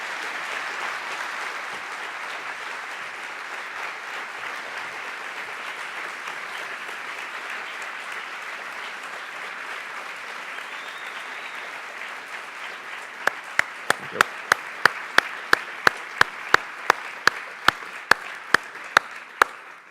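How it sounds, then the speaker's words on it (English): After a lecture on sustainable development given in Australia, a large audience applauds steadily for a long stretch, a dense wash of clapping, with a few sharp, louder individual claps standing out near the end. "you can hear from that applause just how much people appreciated the comments that you made"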